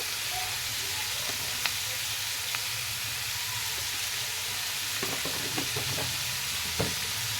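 Chili chicken with spices and salt being stirred in a frying pan, a steady hiss of frying with a few soft spoon scrapes and clinks now and then, close and even.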